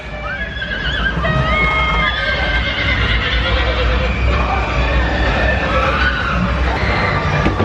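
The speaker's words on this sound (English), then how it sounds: "The horse!" A horse neighs loudly with a long, wavering whinny at a Halloween haunted attraction at Knott's Scary Farm, over rumbling background noise and faint crowd murmur.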